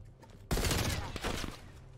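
An M16 rifle fires a single loud, close burst in a video game, the sharp crack cutting in abruptly and ringing out briefly with no talk over it.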